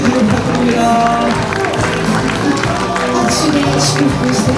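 Wedding guests applaud the bride and groom at a house wedding hall in Incheon, a steady wash of clapping that holds at full loudness throughout, with music and voices running underneath.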